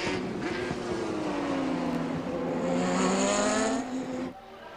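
Omron Porsche race car at the 1988 WEC round at Fuji, engine wailing at high revs as it sweeps past, pitch sliding down smoothly, loud and sustained before cutting off abruptly.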